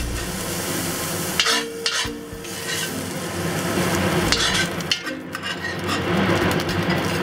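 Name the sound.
shrimp sauce fried rice with mince pork frying in pan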